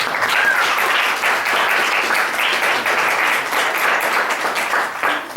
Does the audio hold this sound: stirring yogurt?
no